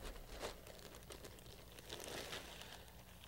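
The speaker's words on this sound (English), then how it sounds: "The next thing you do is unwrap your" A GARN blower gasket unwrapped from its plastic packaging, faint crinkling and rustling in short bursts over a few seconds.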